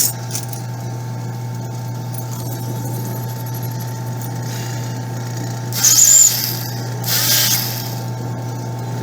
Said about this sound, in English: I have my drill press upside down.